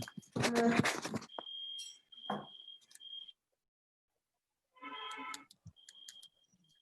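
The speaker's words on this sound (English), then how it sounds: "There is some testing going on for the alarm clock in these flats, so that is disturbing continuously." A repeated electronic alarm being tested in a block of flats sounds in several loud, high, steady beeping bursts separated by short pauses, with a few quieter ticks near the end.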